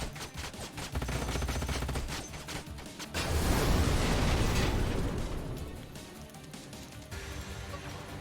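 Gunfire and explosions in the Vanguard video game: a rapid crackling burst of shots, then a big rumbling blast that swells and slowly fades, followed by more scattered firing.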